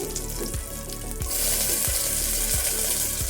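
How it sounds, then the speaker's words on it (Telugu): Onion pieces fry in hot oil in a pan, a continuous close sizzle that swells louder midway, with occasional stirring clicks. "కాసు ఫ్రై అవుతున్నాయి"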